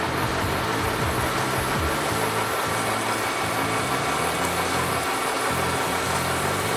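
A drill bores a 1.5 inch hole in one pass with no pilot hole, on a home-built backhoe project. It sounds as a loud, steady motor drone with a fluctuating low rumble, continuous from start to finish.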